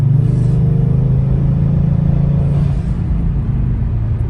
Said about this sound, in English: those turbos sound insane